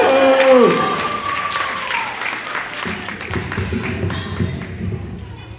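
Audience applause from a school assembly crowd, a loud burst of clapping that fades gradually over several seconds, with a voice speaking briefly over it at the start.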